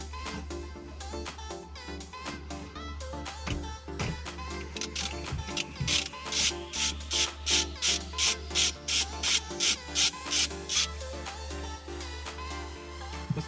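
Ratchet clicks from loosening a 19 mm bolt on a Toyota Hilux during clock spring replacement, a long run of rapid close ratcheting that grows louder and more rhythmic midway, over a steady low hum, with no talk.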